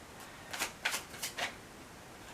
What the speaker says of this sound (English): Having a hard time shuffling the cards here.